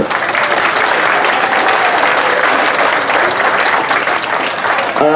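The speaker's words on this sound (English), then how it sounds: "let's give a round of applause" Dense, loud applause from a large audience at a Philippine Weekend cultural celebration, continuous and even for several seconds with no break or voices.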